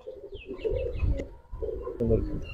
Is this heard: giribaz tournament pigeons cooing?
yes